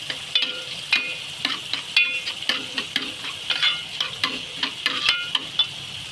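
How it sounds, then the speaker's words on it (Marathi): Whole spices crackle and sizzle in hot oil over a high flame for butter paneer masala, with a utensil scraping and stirring the pan in quick repeated strokes. "आता हे अक्के मसाले मी यामध्ये घालते गॅस फास्ट करायचा आहे"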